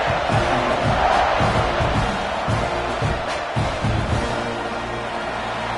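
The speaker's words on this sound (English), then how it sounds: "You think this crowd's going to get loud when their defense comes on the field?" A packed college football stadium crowd in the video game College Football 26 produces a steady, loud roar with rising cheers and occasional thumps, sustained for the whole stretch.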